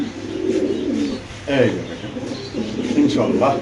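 A fancy pigeon coos softly in low, rolling bursts at close range, with a person talking throughout.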